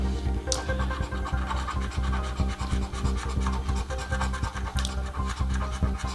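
Repeated rhythmic scraping of a coin-like edge across a Belgian National Lottery scratch card, close and steady with quick rasping strokes running continuously throughout, no voices.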